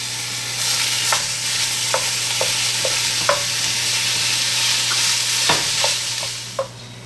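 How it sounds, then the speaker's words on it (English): Ground beef browning and being stirred in a hot pan, with a steady loud sizzle throughout and repeated scraping stir strokes cutting through it; no talking. "I'm going to brown the beef first and then add the vegetables after the fat has rendered out"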